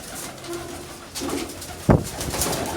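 Soft pigeon cooing in the background, low murmuring calls over faint ambient noise, with a brief sharp knock partway through.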